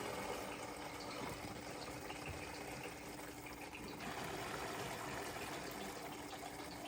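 Water runs through the pre-filter lines of a home water ionizer. It makes a steady, continuous rushing flow, fairly quiet and unbroken, with a slight shift in tone partway through and no voices.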